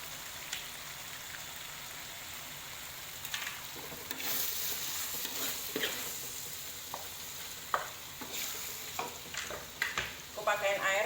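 Spice paste and chopped tomatoes for tuna pesmol sizzle and crackle in a pan, with scattered scraping stirs that grow busier toward the end, a soft steady frying hiss underneath.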